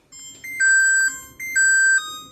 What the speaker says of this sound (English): timer says it's done